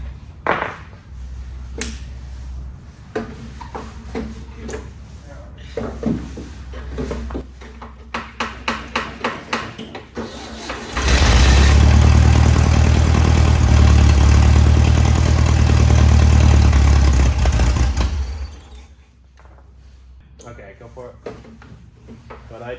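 Engine of a 1961 VW Beetle barn find cranking on the starter, then catching and running loud and close for several seconds before shutting off, with people talking before and after.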